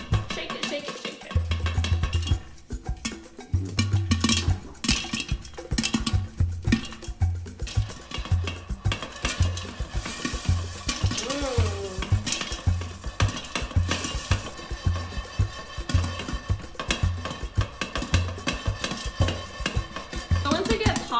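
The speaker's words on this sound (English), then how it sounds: "just kind of shake it over the top so it doesn't scratch the stove or scratch my pots" A pot of popcorn kernels is shaken back and forth over a gas stove, producing a continuous, fairly loud rhythmic rattle and scrape of metal that repeats steadily for about twenty seconds.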